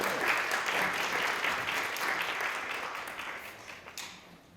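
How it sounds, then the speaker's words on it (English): An audience applauds speakers Peter Werner and Marlow Gates at a talk on broom making. The clapping is fairly faint and even, then gradually thins and fades. "if everyone could give a big round of applause to Peter Werner and Marlow Gates"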